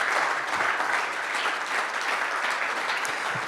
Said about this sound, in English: let's give Dr. Hong another round of applause